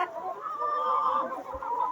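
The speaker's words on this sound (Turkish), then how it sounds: "Size tavukları göstermek istedim sadece." Hens in a coop keep up a soft, steady murmur of clucking, a low continuous flock chatter heard at moderate distance with no other sounds.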